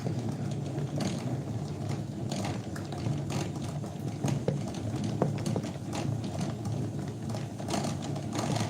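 Thread rewinding on a thread winding machine during a handicraft session produces a steady mechanical whirr and clatter with faint ticking, continuous and fairly close throughout.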